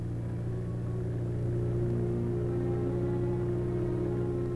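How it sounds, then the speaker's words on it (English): Military recovery vehicle hauling a repaired tank along a paved autobahn, a steady low engine rumble and drone that holds even throughout. "the recovery vehicle trundles the repaired tank back home"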